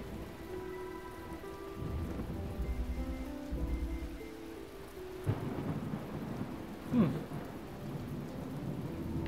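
Rain pours steadily in the 2014 puzzle game The Talos Principle on PS4. Deep thunder rumbles early on, and a sharper crack with a rolling boom comes later, all over soft background music.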